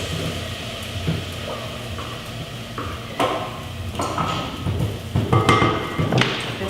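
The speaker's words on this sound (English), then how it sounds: "we add my fresh tomato, herb, and onion mixture to my sweating onions" A fresh tomato, herb and onion mixture is tipped into a pan of sweating onions, with close, uneven thuds, clanks of utensils against the pan and a soft sizzle underneath.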